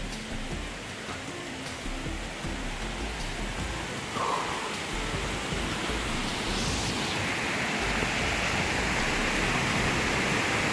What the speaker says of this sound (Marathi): धबधबा दिसायला लागलाय.